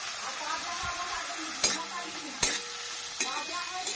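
Cabbage stir-fried in a hot pan after browning, with a steady sizzle of frying under the stirring and a few sharp clacks of a utensil striking the pan, close and moderately loud.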